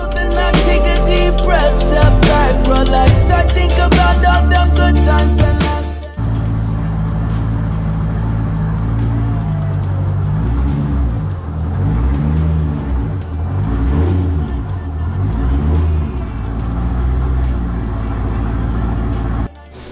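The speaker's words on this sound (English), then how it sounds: "Car drove right up them, which is great." A C5 Corvette creeps up onto low-profile race ramps, its engine first loud with sharp revving bursts, then settling into a lower rumble that rises and falls as the car rolls slowly forward.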